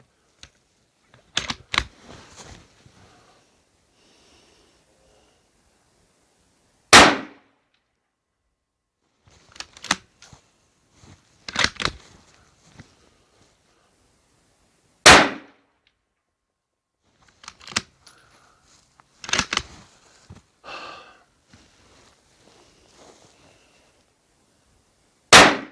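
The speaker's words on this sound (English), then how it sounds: "Let me go ahead and fire set number 3 at the bullseye in the lower left." Rifle shots fired at a bullseye target with hand-loaded ammunition, a series of five sharp, loud cracks spaced several seconds apart, with quieter clicks and bolt or handling sounds between shots in otherwise quiet surroundings.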